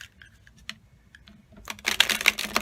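A tarot deck is shuffled up close: light scattered card taps give way to a dense riffling flutter of cards in the final second, with no talking.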